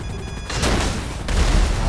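Gunfire in Grand Theft Auto V during the Cayo Perico heist escape with an armoured helicopter, a burst of loud shots and booms lasting under two seconds, with no talk.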